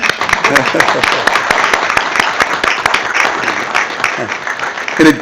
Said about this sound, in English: you just stand up, we recognize you, and we clap